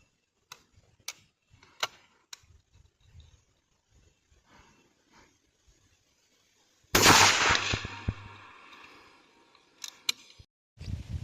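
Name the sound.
F.A.I.R SLX-800 air rifle shot with Thrill Shock pellets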